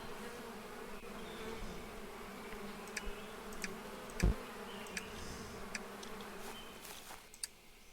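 Steady insect-like buzzing of bees in the video game Apico hums throughout, fairly quiet, with occasional small clicks and a brief soft thump midway.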